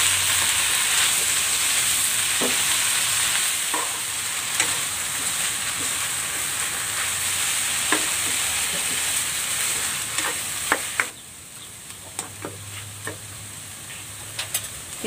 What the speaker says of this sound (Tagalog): Ilalagay ko na dito itong dahon ng ampalaya.